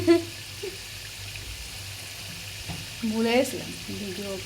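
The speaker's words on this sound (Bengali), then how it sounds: "দেখো চলছে আমাদের ভাজাভাজি সিঙ্গারা বা ছোটো সিঙ্গারা" Small singaras frying in hot oil give a faint, steady sizzling hiss throughout, with a voice speaking briefly over it at moments.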